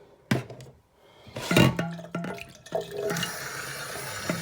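Running water rinsing a dishwasher part under a tap, with splashing bursts and a steady flow, close and moderately loud.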